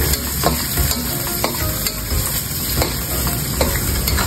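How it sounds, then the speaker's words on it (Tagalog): Onions and chili sautéing in a hot pan, a steady bright sizzle with periodic scraping stirs of a utensil, close and continuous, no talking. "Sasayin lang natin to hanggang lumabas yung aromatics."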